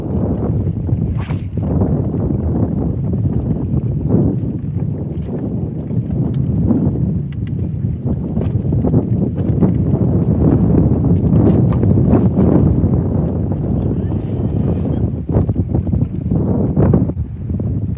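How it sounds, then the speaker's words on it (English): Strong wind buffeting a bass fishing boat out on the water, a loud continuous rumbling roar with gusty surges throughout, close to the microphone. "if you can hear that wind"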